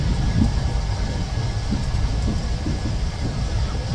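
Jan Shatabdi Express 12051 running on the Konkan Railway from Chhatrapati Shivaji Maharaj Terminus toward Madgaon, heard from inside a Vistadome coach as a steady, loud low rumble of wheels and carriage that continues throughout.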